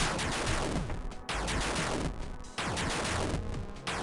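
A bomb weapon explodes in a Mega Man fangame: loud, dense noisy blasts that burst again and again over about four seconds, each rapid series of crackling booms cutting off briefly before the next.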